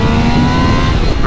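A loud 2025 Triumph Tiger Sport 800 motorcycle engine revving hard and high toward 11,500 RPM, its whining pitch sustained up close with a slight rise near the end.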